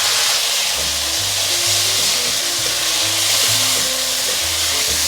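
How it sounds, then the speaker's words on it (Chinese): Mushrooms and Thai basil stir-fried in a wok over high heat, giving a steady, loud sizzle and hiss throughout, with faint scraping of the spatula as the food is tossed. "现在放入9层塔，大火快速翻炒。"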